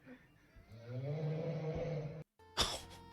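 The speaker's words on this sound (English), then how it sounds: "Is there someone snoring?" A person snoring, one long, drawn-out rasping breath that rises and holds, then a sudden break followed by a sharp, brief burst.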